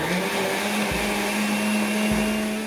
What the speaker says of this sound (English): so it's time to put the top on and give it a good blend.